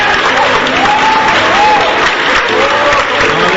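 A church congregation applauds loudly and continuously, a thick roar of clapping up close with voices calling out over it.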